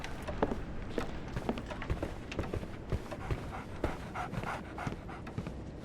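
A dog in the Sherlock Holmes game The Awakened pants rapidly and steadily close by, quick rhythmic breaths with faint tapping mixed in, continuing without a break and without talk.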